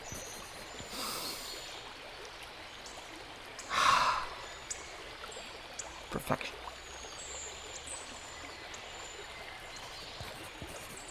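A river murmurs gently between its banks as a faint, continuous watery hiss, broken by a short breathy burst and a single brief spoken word.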